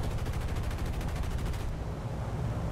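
Rapid machine gun bursts from a B-17 bomber's guns firing tracers in War Thunder, a fast dense chatter lasting over a second and a half, then giving way to steady engine drone, moderately loud.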